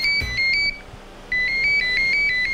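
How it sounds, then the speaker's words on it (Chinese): A home telephone rings with an electronic ringtone in two bursts of repeated tones, separated by a short pause. It sounds clear and fairly close, with no talking. "家里电话响起"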